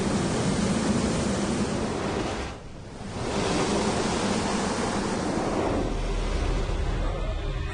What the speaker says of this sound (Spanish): los respirosifones, una especie de altavoces por los que emergía el bramido atronador del agua